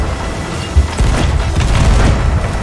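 Cannon fire in the pirate video game Sea of Thieves: one sharp booming shot, then continuous low rumbling blasts and clatter across a short stretch, loud and close with no talk.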